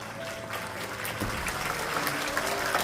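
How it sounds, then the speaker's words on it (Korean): Congregation applauding at a church installation and retirement thanksgiving service, a steady wash of many hands clapping, moderately distant and slightly building, with a faint voice underneath. "큰 박수로 축하해 주시기 바랍니다."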